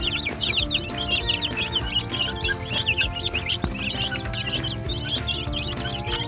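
Chicks and hens on a backyard farm, soft clucking and high peeping chatter running steadily through a constant background hum while the birds feed.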